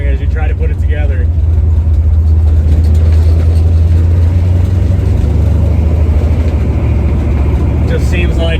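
A 1970 Chevrolet Nova with a 383 stroker engine drives along, its loud, steady low engine rumble running continuously and close throughout, with talking over it.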